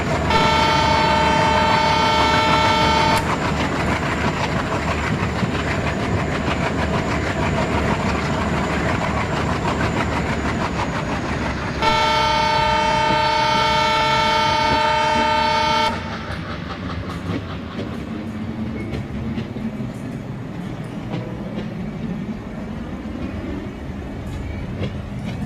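Diesel train in the Indian Railways Train Simulator game pulling away from platform 2 at about 30 km/h, a steady engine drone and track rumble with two long horn blasts, the second sounding as the train runs on.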